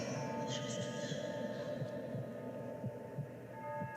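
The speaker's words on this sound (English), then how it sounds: "Can you hear the heartbeat pulsing?" A heartbeat pulses within a music video soundtrack, soft low thumps repeating at a steady rhythm beneath a constant droning hum and faint music.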